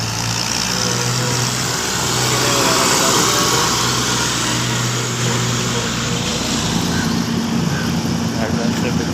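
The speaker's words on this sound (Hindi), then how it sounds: "ट्रैक्टर लेकर जा रहा है" A tractor engine runs loud and steady near a wheat harvester being repaired in a farm field, a continuous rumbling drone with background voices and noise, gradually shifting as it pulls away.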